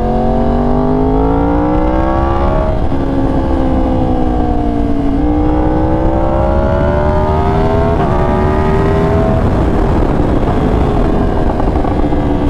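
Yamaha R1M sport motorcycle ridden along a mountain road, its engine droning loudly and steadily with rising and falling pitch as it shifts through gears, close to the rider with constant wind and road roar underneath.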